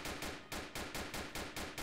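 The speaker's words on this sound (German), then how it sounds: "Ja, hier schießen die alle." Gunfire in the police game Notruf Hamburg, during a special-forces shift, cracks out in a fast, regular burst of about seven shots, fairly quiet and with no speech.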